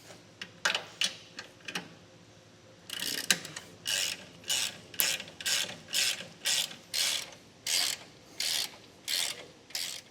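A ratchet wrench fitted with a 19 mm socket tightens bolts on a Roadmaster direct-connect base plate on a 2016 Chevrolet, a few sparse clicks first, then a steady run of rhythmic ratcheting strokes close to the listener.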